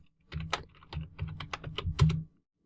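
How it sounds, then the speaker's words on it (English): Login credentials being typed on a computer keyboard, a quick run of close keystrokes clustered in short bursts lasting about two seconds, with no talking. "So let's type that in."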